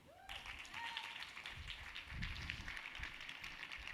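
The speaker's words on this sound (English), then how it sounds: "That was like more of like a golf clap than a football clap." Faint, light golf-clap applause from a pitch competition audience, scattered soft claps tapping on at a low level with some voices murmuring underneath.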